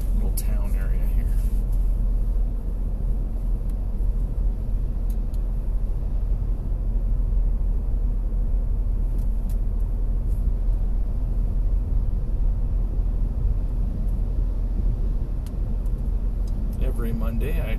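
Car driving along a shore road out of a small town: a steady, close engine and road rumble with constant tyre noise, unbroken for the whole stretch.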